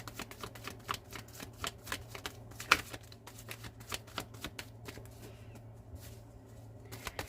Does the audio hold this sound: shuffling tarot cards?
yes